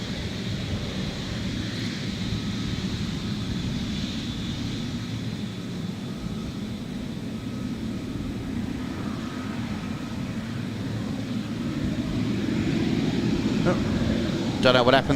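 A Qatar Airways airliner departs Adelaide Airport, its jet engine noise a broad, steady rumble that swells toward the end, with faint voices underneath.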